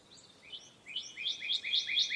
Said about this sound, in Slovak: Psst, počúvaj. To je hýl.